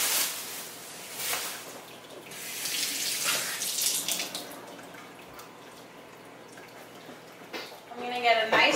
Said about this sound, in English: I'm just going to rinse them off.